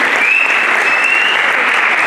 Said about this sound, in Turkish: Hüseyin'i alkışlayın bakın bir.